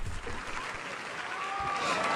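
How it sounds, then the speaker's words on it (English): A studio audience at a television show applauds, with a steady wash of clapping and crowd noise that swells slightly toward the end, while voices talk over it. "Clap for the pen."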